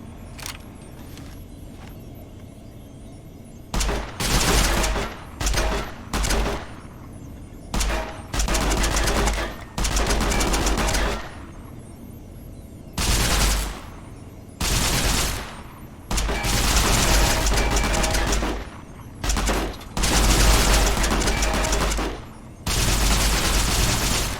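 Plasma rifle fire in Fallout New Vegas, loud repeated bursts of shots in irregular clusters with short pauses between volleys, sustained over a long stretch of combat.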